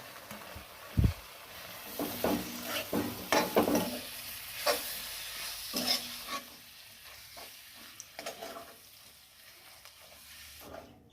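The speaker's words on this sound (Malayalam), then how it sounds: "ഇനി നമുക്കിതിലേക്ക് ഈ വിനാഗിരി അങ്ങോട്ട് ഒഴിച്ച് കൊടുക്കുക." Vinegar poured into lemon pickle in a pan and stirred, giving close, irregular scraping and clattering strokes over a faint sizzle, with no voices.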